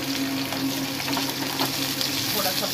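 Cumin, chopped onion and green chili fry in hot oil in a pan, making a continuous close sizzle with faint stirring scrapes and no voices over it.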